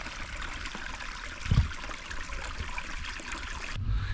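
Creek water runs from a small lake outlet in a continuous close trickle and splash, with a brief heavier gurgle midway and a sudden shift in tone near the end.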